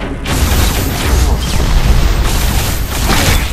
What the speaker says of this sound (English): Explosion kills.